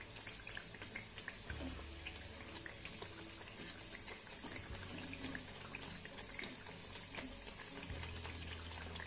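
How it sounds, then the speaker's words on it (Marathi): Sorghum flour chakli fry in hot oil, a soft, steady bubbling sizzle with a faint continuous hiss and a few quiet low thumps. "आता त्या बाजूने देखील आपल्याला छान अशी कुरकुरीत होईपर्यंत तळून घ्यायची आहे."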